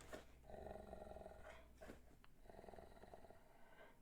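A dog growls in low, rumbling bursts, two sustained growls separated by a short pause, quiet and close with breathy snorting texture.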